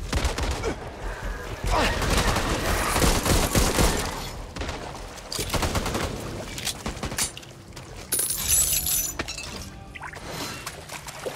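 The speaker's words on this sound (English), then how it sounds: "Firecracker!" Firecracker explosions burst in Back 4 Blood gameplay, loud crackling pops and bangs in rapid clusters over several seconds, mixed with other game noise and brief shouts.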